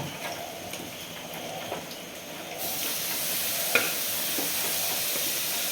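Onions, shallots and garlic sauté in a pan for chicken curry, a steady close sizzle and hiss with occasional stirring scrapes that grows louder and denser about halfway through, with no talking.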